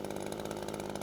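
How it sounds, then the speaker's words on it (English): A Cobra MT270K petrol multi tool engine, just started with a recoil pull, runs with a brief, steady buzzing drone at moderate volume. "we pull the recoil and it should start straight away"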